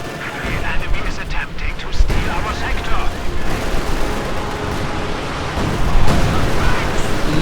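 Tank and infantry battle in the WWII strategy game Company of Heroes 2, a Panzer IV and Ostwind among the units, with dense overlapping gunfire, cannon blasts and explosions filling the mix loudly and continuously.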